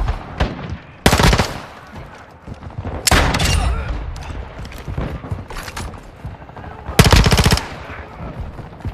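Rapid P90 automatic gunfire in Call of Duty Modern Warfare II (2022), fired in several loud, close bursts over game ambience and footsteps.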